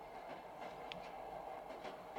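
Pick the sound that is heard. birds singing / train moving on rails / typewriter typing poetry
train moving on rails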